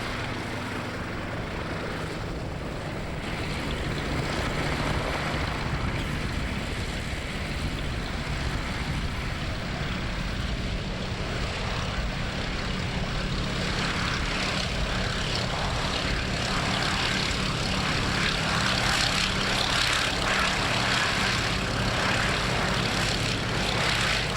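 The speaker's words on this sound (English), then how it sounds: "A wonderful aircraft. It was a front-line aircraft for the Navy at the beginning of the war" A Fairey Swordfish navy biplane flies with its propeller engine droning steadily and loudly for the whole stretch, a rough, even roar with no voices over it.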